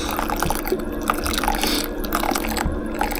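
Hot water poured from a kettle inside a camper van at breakfast, a steady liquid fill with small drips and splashes over a low constant hum, close and moderately loud.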